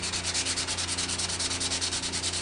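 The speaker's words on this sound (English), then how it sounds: "There is no grain pattern, so you can sand in any direction you choose." Sandpaper rubbed back and forth over a plastic Xbox controller, a close, steady rhythmic scratching with even strokes about every tenth of a second, no voices.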